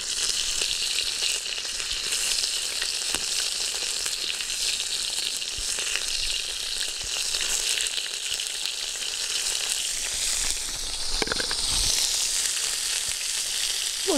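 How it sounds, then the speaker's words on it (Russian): Pork ribs fry steadily in a pan with a dense, continuous sizzle, fairly loud and close, with a brief stir or shift near the end and no talking. "Вот, и обжариваем наши ребра"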